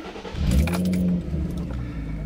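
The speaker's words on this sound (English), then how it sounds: "you're gonna let go of the accelerator and turn the car on" A car engine, an Infiniti or Nissan VQ-type V6 during an idle relearn, cranks and catches with a loud low rumble, then settles into a steady idle; keys jingle briefly at the start.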